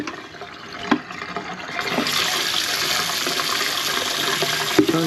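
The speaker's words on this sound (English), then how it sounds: "So I would pour that down the drain." A bucket of water is poured down a clogged kitchen sink drain, a loud steady rushing splash that builds after a few knocks and runs on for several seconds, close by.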